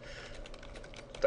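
Quiet, quick keystrokes on a computer keyboard, a short burst of close clicking ending in a slightly louder tap.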